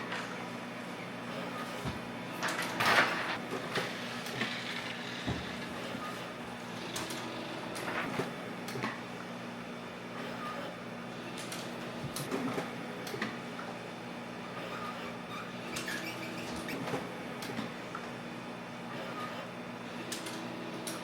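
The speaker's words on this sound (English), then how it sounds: "now all we have to do is wait for our printer to get done printing." A Uninet iColor printer works through a five-sheet print job, giving a steady, fairly faint mechanical whir with occasional soft ticks and clicks.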